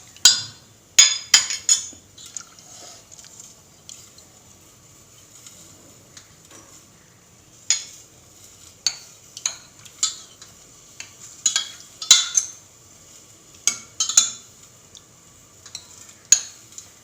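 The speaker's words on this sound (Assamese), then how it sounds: "এইখিনি মই এতিয়া প্ৰেছাৰটোতে ফেটি ল'ম" Elephant apple is mashed by hand inside a metal pressure cooker pot for a fish curry, producing irregular clinks and scrapes that recur as sharp taps over a quiet background.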